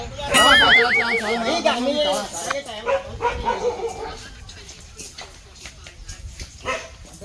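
Village dogs barking and yelping in a Punjabi village, several sharp barks near the start, then fainter intermittent barks under ongoing talk and street noise.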